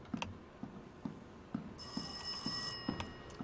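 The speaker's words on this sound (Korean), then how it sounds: "전화 왔고요" A telephone rings in the horror video game Rise of Insanity, with a bright, trilling bell over steady rhythmic thumps, faint and somewhat distant, with no voices.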